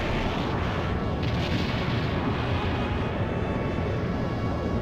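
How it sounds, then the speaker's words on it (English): A Hydra cannon fires during an airship battle in the video game Skies of Arcadia, a dense, continuous roaring blast that holds at full strength for about five seconds without any pause. "it's time to guard and see how much damage this Hydra cannon can do."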